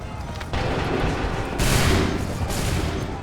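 Musket volleys during the Lexington and Concord battles in Assassin's Creed III Remastered: a sustained din of massed gunfire with sharp swells near the middle and end, heard over battle noise with voices mixed in.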